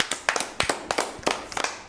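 A small group claps for a child at a live children's programme, giving a quick run of sharp, uneven hand claps close by, with no speech over them.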